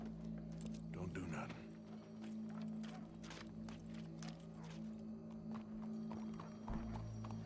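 Horse hooves clip-clop steadily in Red Dead Redemption 2, with a short whinny early on, set under a continuous low hum and background game sounds; voices speak through parts of it.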